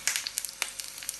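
Brinjal (eggplant) pieces frying in hot oil for a masala, a close sizzle with quick crackling pops and spits, fairly faint and steady with no talk.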